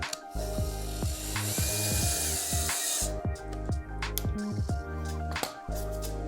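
Power screwdriver driving screws into an ottoman during assembly, with repeated short ratcheting bursts of the motor and sharp clicks close by, several starts and stops, no talking.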